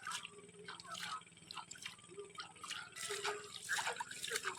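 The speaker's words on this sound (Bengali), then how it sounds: "আমগুলোকে ভালো করে ধুয়ে নিতে হবে" Mangoes are washed by hand in river water outdoors, with faint splashing, dripping and sloshing in irregular bursts under a soft background of low voices.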